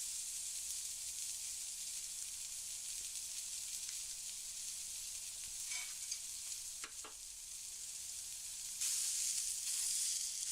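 Store-brand mild sausage browning in a skillet, a steady, bright sizzle and hiss that continues throughout, growing a little louder near the end, with an occasional faint scrape and no talk.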